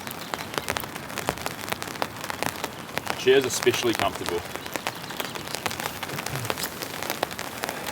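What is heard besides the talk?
heavy rain falling on a tent while winter camping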